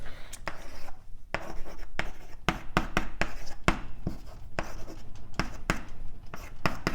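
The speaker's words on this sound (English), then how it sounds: "So I can actually write this whole thing out" Chalk or a marker writes an equation on a lecture board, producing repeated sharp taps and short scratchy strokes in an irregular rhythm, close, with low room noise in between.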